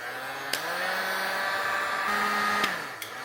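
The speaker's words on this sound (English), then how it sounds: "Go nice and even around the heat shrink connectors here and just get them till they're all the way shrunken down." A heat gun blows steadily to shrink heat-shrink tubing over butt connectors while wiring a DR650 fender eliminator, a constant whirring blast with a few faint clicks and shifts in tone as it moves.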